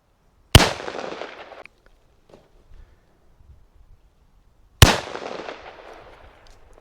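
Two sharp, loud shots of rifled slugs from a Bond Arms Blackjack, fired outdoors about four seconds apart, each with a quick crack and a long ringing decay, with faint rustling in between.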